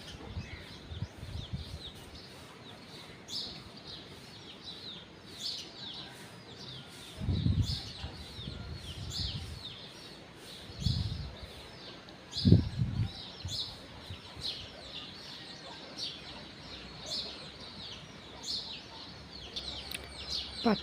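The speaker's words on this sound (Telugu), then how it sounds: "పచ్చని చెట్లు, దాని మీద కోళ్ళు." Chickens perched in green trees in the early morning give faint, scattered clucks at a distance, mixed with small bird chirps over a quiet outdoor background.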